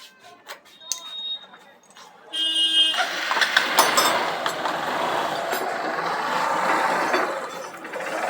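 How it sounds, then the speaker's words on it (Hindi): A Honda Shine motorcycle engine starts after a few clicks and rattles, then runs steadily with a dense, buzzing roar close by. "तो फाइनली हमने बाइक को स्टार्ट कर दिया और आप इसकी साउंड सुने"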